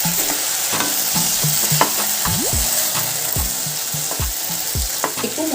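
Local chicken pieces frying in a pan over a medium flame, stirred now and then: a steady close sizzle broken by repeated scraping spoon strokes at an uneven rhythm, with no talking.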